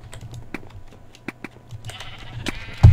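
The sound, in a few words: sheep bleating in Minecraft video game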